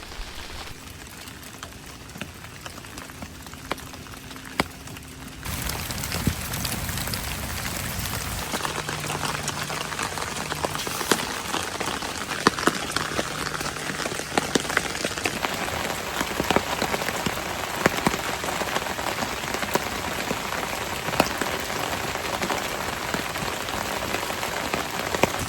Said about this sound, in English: this part of rain camping where you can just sit under the tarp and listen to the rain, watch a fire, it's pretty great.